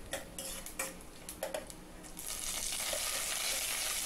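Mustard seeds, gram dal, urad dal, red chilli and curry leaves hit hot oil in a pan for lemon rice, opening with a few sharp clinks and pops before a loud, steady sizzle builds and holds.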